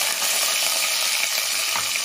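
Onions fry in a pan, a loud, dense, continuous sizzle close by, steady for the whole stretch with no talk.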